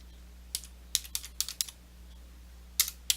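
Clusters of crisp key clicks from a computer keyboard while a word list is typed, short bursts separated by pauses, close and fairly quiet, with a steady low hum underneath and no voices.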